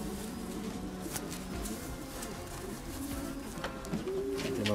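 Racing pigeons in a breeding loft coo softly and steadily, low murmuring calls with faint wing and foot patter nearby.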